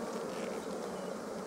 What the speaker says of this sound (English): Here is a beautiful frame of bees